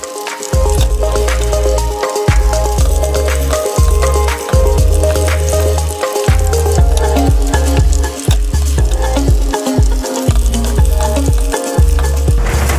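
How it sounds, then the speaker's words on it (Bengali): Cheese balls sizzle and fry in hot oil in a home kitchen in Korea, a steady loud crackling bubble with intermittent utensil clinks and stirring thuds, no talking. "এই চিজ বলটা আমার এত প্রিয়, এটা অল্প একটু ফ্রাই করলেই হবে"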